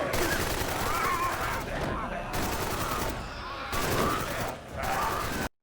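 Rapid bursts of gunfire from a zombie movie, with sustained crackling volleys that pause briefly and resume, loud and continuous over roughly five seconds, mixed with a dense cinematic soundtrack.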